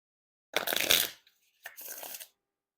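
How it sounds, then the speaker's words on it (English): Bicycle Sudoku playing cards riffle-shuffled twice in quick succession, a crisp fluttering burst followed by a second shorter one, close up with no talking. "So not terrible riffles and bridge shuffles there."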